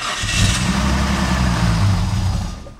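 RB30DET engine in an R33 Skyline GTS4 cranking and catching, a loud close roar that holds unsteadily for a few seconds before fading as it fails to settle into idle.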